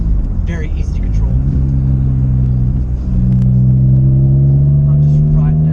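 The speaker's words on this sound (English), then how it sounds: "I'm just riding down some country roads here in Georgia." BMW M3 E46 convertible cruising on Georgia country roads, a steady loud engine rumble and road drone that rises in pitch as the car accelerates, with someone talking over it.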